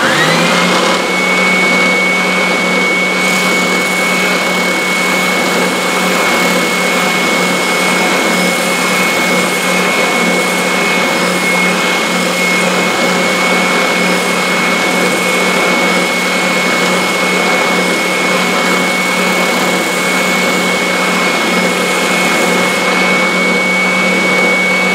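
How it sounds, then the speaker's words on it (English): A guitar nut being sanded down to a marked line on a stick, giving a steady, continuous abrasive rasp with a constant high whine layered over a loud machine hum throughout, no talking. "Now I'm gonna sand to the line, and if I leave it on my stick, I can hold the stick instead of the nut."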